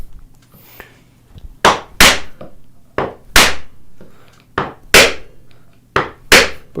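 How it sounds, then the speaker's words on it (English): A chisel knocks dovetail waste out of oak with sharp, separate taps, about nine in all, coming in pairs and singles. The hits are close and crisp over a quiet background. "If they don't break out, then I can come in here from the end and just tap them out like that."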